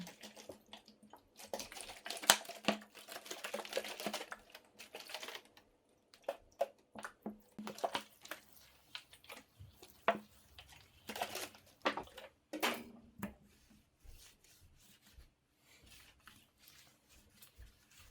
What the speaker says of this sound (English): I then started the felting process by agitating the wool with my hands